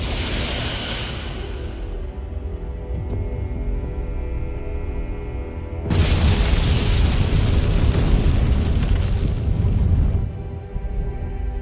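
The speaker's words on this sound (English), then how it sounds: "Firing photon torpedoes." Photon torpedoes are fired and detonate in the Star Trek: Resurgence video game, heard as a loud, sustained rumbling blast that surges even louder partway through before dropping back into a deep roaring tail.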